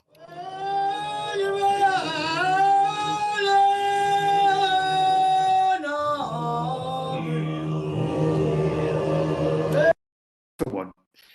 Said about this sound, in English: This sound is a song of a fisherman from the Bahrain Island, and it sounds like this